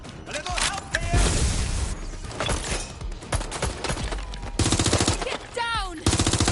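Rapid bursts of automatic gunfire in the video game Watch Dogs: Legion, loud and close, with shouting voices and other game sounds mixed in over several seconds.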